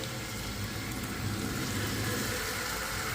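Marinated chicken pieces fry in butter and oil in a hot pan over low gas, giving a steady, close, continuous sizzle with a dense crackling texture and no talking.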